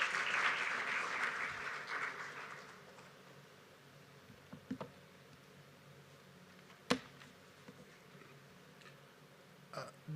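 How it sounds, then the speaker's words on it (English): A conference audience at a campaign launch applauds as Innocent Mutabaruka is invited to the stage, a full burst of clapping that thins out within a few seconds into quiet room tone with a few scattered knocks. "A big round of applause."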